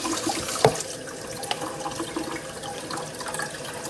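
Water running from a household tap whose supply smells of sulfur, a steady broadband rush with a brief clunk near the start, continuous and fairly close throughout.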